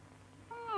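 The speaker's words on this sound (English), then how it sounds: ""I've no whiskers," meowed the cat." A cat meows once in a 1970s classic cartoon, a short rising cry that comes in at the very end after a quiet moment.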